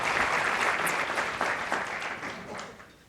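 Audience applause at an afternoon keynote event, a dense wash of many hands clapping that starts full and slowly fades out over a few seconds, heard from within the hall with no voices on top.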